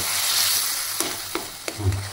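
A spice paste of turmeric and Kashmiri red chilli powder sizzles steadily in hot ghee in a kadai over a high flame, with a few sharp scrapes of stirring and a brief low thump near the end.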